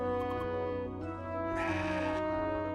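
Goat bleats from the video game CrossCode, a wavering nasal bleat over a steady tonal music bed, followed by a brief burst of noisy sound effect.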